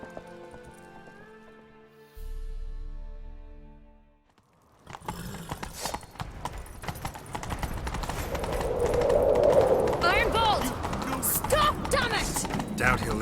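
Rapid hoofbeats of a galloping horse in The Witcher 3's Skellige pound through a busy game soundscape, with music and clattering effects layered over the steady rhythm.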